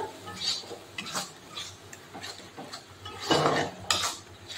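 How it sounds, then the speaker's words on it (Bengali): Masala for a giant freshwater prawn curry (golda chingri kosha) being stirred in a pan as water is added, giving intermittent scraping and clinking strokes with soft wet sizzling between them, moderately close. "তো দেখুন মশলার মধ্যে আমি অ্যাড করছি একটু জল।"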